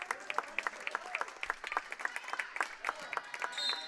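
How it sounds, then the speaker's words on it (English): Crowd at a girls' high school basketball game in a gym gives a warm round of applause, steady dense clapping from many hands with some cheering, fairly distant and reverberant, with faint voices mixed in. "Gets a nice round of applause from the Bomber faithful here tonight at the barn"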